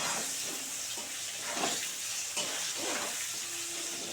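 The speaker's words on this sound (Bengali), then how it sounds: "ভালো করে, একটু ভেজে নেব বন্ধুরা" Chopped spices frying in a pan, a steady hissing sizzle with a few soft stirring strokes, close, fairly quiet, and with no one talking.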